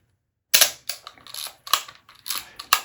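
The shutter of an Olympus Pen F half-frame film camera with interchangeable lenses fires several times after a moment of silence, a series of sharp, close, crisp mechanical clicks at an uneven rhythm, with no talk.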